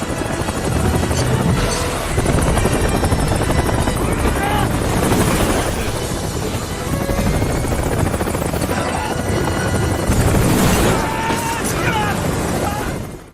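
Helicopter rotor and engine noise from a film scene of six people flying off over icy mountains, a loud continuous churn mixed with dramatic soundtrack and effects throughout.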